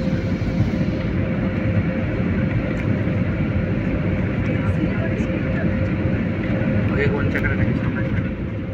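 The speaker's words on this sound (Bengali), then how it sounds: "এবার আমরা ল্যান্ড করব।" Airplane cabin during the approach to landing under an overcast sky, with a loud, steady broadband engine and airflow roar that holds constant throughout.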